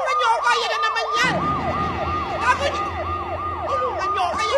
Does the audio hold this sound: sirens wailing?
yes